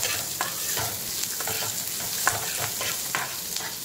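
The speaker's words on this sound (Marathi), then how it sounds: "लसूण, हे आपले राखलेले काजू आणि आलं, त्यात आपण थोडंसं भाजून घ्यायचं याला व्यवस्थित।" Garlic, cashews and ginger roast in a pan, a moderate frying sizzle broken by repeated sharp scrapes and taps of stirring, with no talking.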